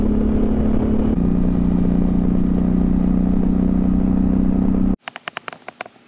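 Suzuki V-Strom motorcycle ridden along the Tail of the Dragon road: a loud, steady engine drone holds for about five seconds with a small pitch shift, then cuts to a few sharp clicks and clatters close by.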